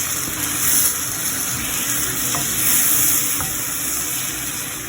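Cut tomatoes stirred into frying onions for a North Indian chicken curry give a loud, continuous sizzle and hiss close by, with faint scrapes of stirring and no talking.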